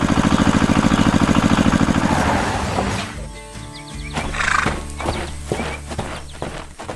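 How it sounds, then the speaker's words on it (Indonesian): Horses whinny and neigh over steady clip-clopping hooves in an animated farm scene, the rhythmic hoofbeats strong at first, then thinning into scattered clops and calls amid other farm noises. "Kuda-kuda itu sedang bersenang-senang."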